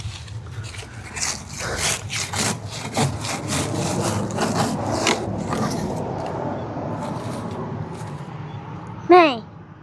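Hand saw cutting wood outdoors, a rapid series of rasping back-and-forth strokes that slow and fade, followed by a brief sharp squeal; a person talks over the sawing.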